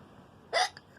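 A single sharp hiccup breaks a quiet room about halfway through, close and loud, followed by a short catch of breath at the very end.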